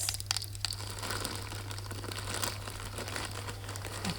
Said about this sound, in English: this is another gift that came in a nice crinkly and quite cute bag with some silver polka dots on orange